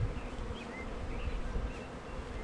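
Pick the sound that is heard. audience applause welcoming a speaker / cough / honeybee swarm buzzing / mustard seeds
honeybee swarm buzzing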